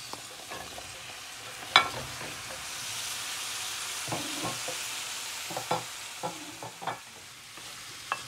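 Aubergines sizzle in a spiced pan for an Indian aubergine bhaaji, a soft steady frying hiss broken by scattered scrapes and clacks as they are stirred.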